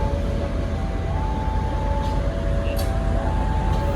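A train hauled by a CC203 locomotive runs steadily past: a continuous broadband rumble and rattle of wheels on rail with a faint tonal hum, loud and close throughout, no talk.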